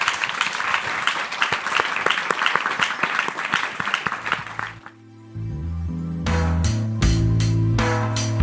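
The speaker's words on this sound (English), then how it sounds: "big round of applause for my two experts" An audience at a summit applauds with dense clapping for about five seconds, after which the clapping stops and music starts.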